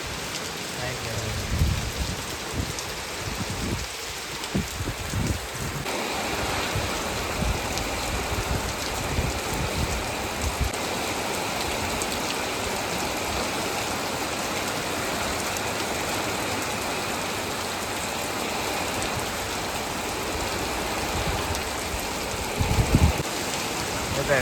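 Rain pours steadily during a night storm in a village, a dense, continuous hiss on surfaces with gusty rumbles in the first seconds, and occasional brief voices in the background.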